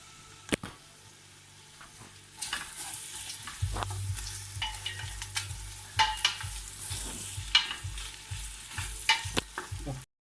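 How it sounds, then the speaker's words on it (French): Onions and garlic hit oil and butter in a cooking pot, a sudden burst of loud sizzling that settles into steady close frying with occasional stirring scrapes. "et un peu de beurre dans le fond de la marmite. J'y verse les oignons et l'ail."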